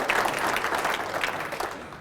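Brief burst of audience clapping after a speech, moderately loud and dense, fading slightly toward the end.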